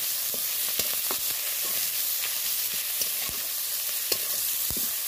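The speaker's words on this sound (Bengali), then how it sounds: "পেঁয়াজ রসুন ভালো করে আমি ভেজে নেব।" Onion and garlic fry in hot oil with five-spice tempering for a spinach and taro dish, giving a steady close sizzle broken by scattered crackles and pops, with no talk.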